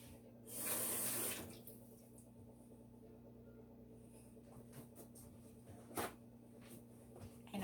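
Hard-boiled eggs are rinsed under a kitchen tap: water gushes loudly for about a second, then quieter trickles, drips and small handling knocks follow.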